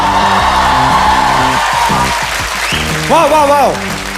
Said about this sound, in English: me a round of applause to start the show.